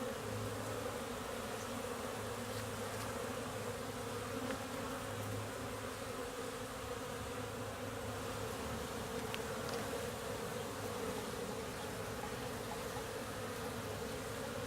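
Honeybees buzz steadily at a beehive in late March, a continuous low droning hum that holds at an even, moderate level throughout with no voices.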